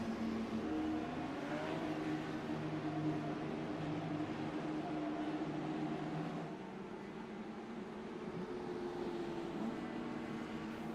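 IndyCar race cars circulate at Knockhill Racing Circuit behind the safety car, a steady, moderately loud engine hum that eases slightly partway through, with no talking.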